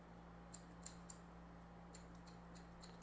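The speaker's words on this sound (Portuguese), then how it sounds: "eu vou fazer só um acabamento aí com a tesoura" Barber's scissors snip a few times while finishing a taper fade haircut, giving sharp, faint, sparse clicks over a steady low hum from nearby equipment.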